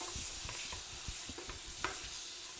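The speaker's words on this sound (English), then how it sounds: "give this a little stir" Thick-cut bacon sizzles in a pan and is stirred, with scraping strokes and soft knocks coming in an uneven rhythm over a continuous close crackle and no voices.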